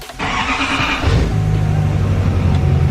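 A 2020 Chevrolet Duramax diesel pickup engine cranks briefly, then catches and settles into a steady, low, throbbing idle, close and loud.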